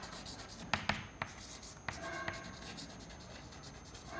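Marker or chalk strokes on a board as equations are written during a fluid dynamics lecture: a few faint taps and short scratchy squeaks in quick succession, close by and with no speech.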